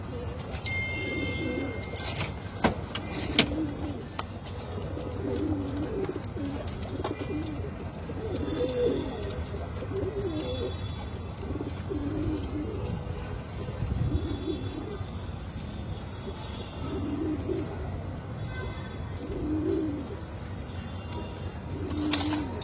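Soft, low pigeon coos in a loft repeat throughout, layered over a murmuring background with a few faint chirps and brief knocks, close and gentle.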